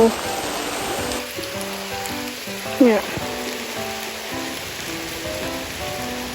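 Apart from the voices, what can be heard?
rain falling on surfaces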